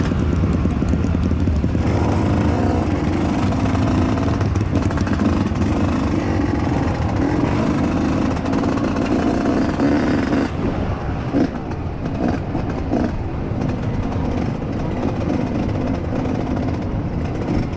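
A trail motorcycle rides and accelerates during a group trail ride in Ungaran, a loud, continuous engine drone close by with slight shifts in pitch.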